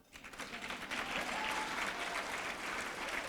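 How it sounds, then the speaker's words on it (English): An audience at a 100th anniversary gala for a women voters' league breaks into applause, with clapping that swells quickly and then holds as a dense, steady, slightly distant patter. "Applause"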